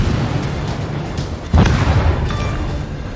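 Explosions as an enemy destroyer sinks in World of Warships: a continuous low rumble of gunfire and blasts, then a sudden loud, deep boom about halfway through that rolls on and decays into heavy rumbling.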